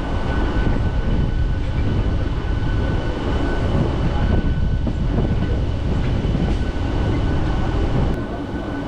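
A Digha Rathayatra special train rolls into the newly modified Digha station, a loud continuous rumble and rattle of the carriages heard from on board, with steady wheel noise and a faint tonal whine throughout.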